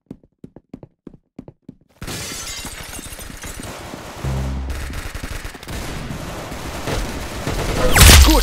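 Rapid bursts of gunfire and shattering impacts from a Roblox video game, loud and dense for several seconds after a few sparse clicks at the start, with a heavy boom near the end.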